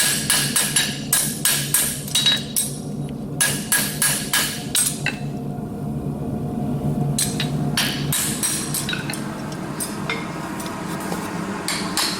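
Rapid, ringing metal hammer blows on a horseshoe strike in steady bursts, pausing briefly, then continuing with lighter taps and scraping, close and loud with no talking.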